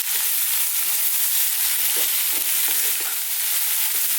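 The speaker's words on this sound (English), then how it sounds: "Now we're going to cook this on a high heat still. About 2 to 3 minutes, stirring all the time now." Beef masala curry fries over high heat, with a steady, dense sizzle and repeated scraping strokes from constant stirring, close and loud throughout.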